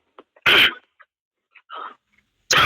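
A sharp, loud cough bursts out close by, followed by a softer second one, with faint breaths and mouth noises between and another cough starting at the end.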